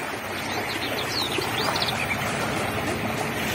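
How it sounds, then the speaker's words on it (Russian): Birds chirp and twitter faintly by the Volga river in the evening, their short calls set against a broad, steady wash of outdoor background noise. "Птички поют."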